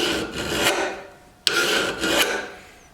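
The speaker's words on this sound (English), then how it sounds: "this file cuts right into that steel" Hand file rasping across soft cable Damascus steel on a knife blade, two long grinding strokes with a sharp click between them, close and loud with no talk.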